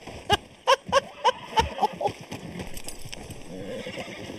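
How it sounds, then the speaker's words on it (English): A horse in the RedM (Red Dead) video game whinnies loudly and close, with a rapid series of sharp clip-clop hoof strikes, then a softer rustling trail-off. "that horse almost kicked your ass"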